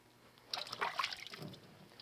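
Water is squeezed and worked through medium-length curly hair by hand during an at-home curl routine, giving soft wet squelches and trickles, close and fairly quiet, with no talking.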